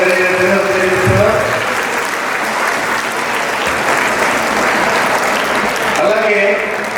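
A hall full of people at Sri Sai Chaitanya Junior College's farewell celebration in Madanapalle claps loudly and continuously for several seconds, with a voice over a speaker system heard at the start and end.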